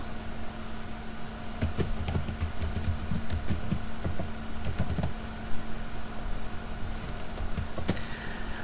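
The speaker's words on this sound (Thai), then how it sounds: "แล้วจากนั้นก็ใส่รหัส Gmail" A computer keyboard types in a Gmail password: clusters of light, quick key clicks over a steady electrical hum, with short pauses between bursts and no talking.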